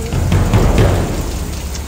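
Heavy rain pours down during a flood beside a river, a loud, steady broadband hiss with a low rumbling undertone that fills the scene without letup.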